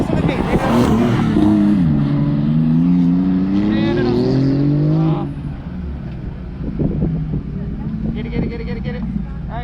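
A car's engine revs and climbs in pitch as it accelerates hard during an autocross run at Grissom Air Force Base, loud and close for several seconds before dropping away, with people talking nearby.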